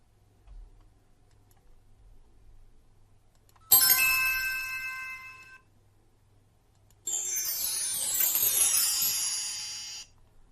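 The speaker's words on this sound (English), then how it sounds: "Church bells." Church bells sound effect: two separate bright ringing strikes, each sustaining and decaying over a few seconds with shimmering overtones, alone against near silence.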